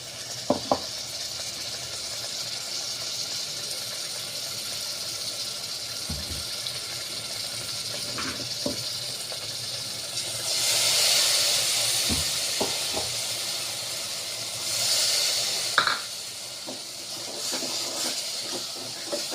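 Tomato paste and masala spices cooking in a pan for stuffed masala brinjal, giving a continuous steamy hiss and sizzle that swells louder twice, with occasional faint clinks and taps.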